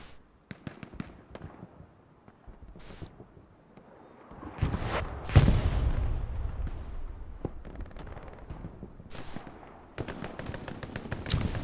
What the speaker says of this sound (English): Massive artillery shell.